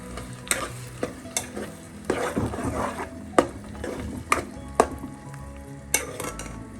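Tomato paste being stirred into sautéed onions in a pan for kadai chicken, a steady sizzle broken by sharp scrapes and clacks of the spoon against the pan at irregular intervals, close and without talk.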